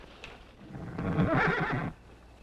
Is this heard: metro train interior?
no